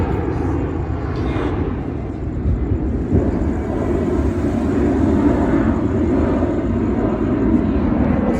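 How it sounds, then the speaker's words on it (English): A large airplane drones overhead outdoors, a loud, steady, broad engine roar holding level for the whole stretch with no talking. "That's a big plane up there."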